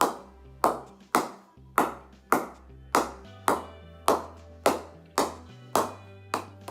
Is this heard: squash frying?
no